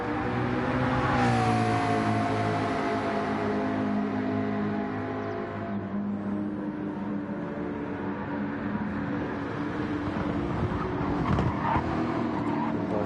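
A McLaren GT race car run by Panther Racing at Spa-Francorchamps, in a racing game, holds a steady engine drone with rising harmonics as it accelerates, loud and continuous throughout without speech.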